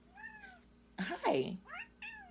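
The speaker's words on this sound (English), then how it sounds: "That's my cat" A domestic cat meows close by in a few short, rising-and-falling calls at the start and end, with a person's voice speaking briefly in between.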